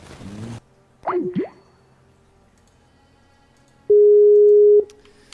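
Telephone busy signal heard while a call is being reconnected: a single loud, steady electronic tone holding for about a second near the end, following brief muffled thumps and quiet background.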